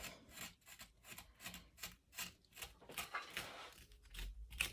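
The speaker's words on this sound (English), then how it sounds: "Just scrape, scrape, scrape." Dried paint and gel medium being scraped off a gel printing plate, a run of repeated rasping rubbing strokes in an uneven rhythm, fairly close and quiet, with no voices.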